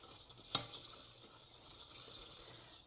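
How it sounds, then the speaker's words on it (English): A whisk works white cheese sauce in a pan, a faint, steady scraping and swishing with one sharper clink early on and no talk. "start whisking it in"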